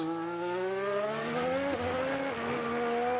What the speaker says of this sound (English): You can hear the roar of that Honda engine.